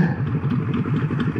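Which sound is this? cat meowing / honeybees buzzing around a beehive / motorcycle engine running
motorcycle engine running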